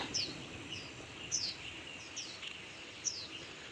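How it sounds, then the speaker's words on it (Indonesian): Small birds chirp with thin, high tweets at irregular intervals in a park in Tainan, Taiwan, set against a steady soft outdoor hiss; no voices. "Banyak suara burung-burung berkicau hari ini."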